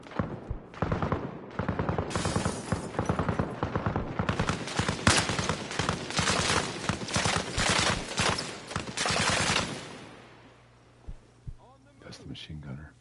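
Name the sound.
machine gun fire in video game Arma Reforger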